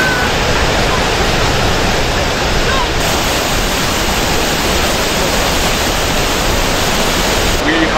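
Water roaring through the opened spillway gates of Nalubaale Dam, a loud, dense, continuous rush with no break, filling the scene for the whole stretch.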